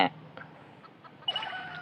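Short chicken clucks in the game Bullet Angel: Xshot Mission, with a sharp squawk at the start and a busier burst of clucking and chatter near the end.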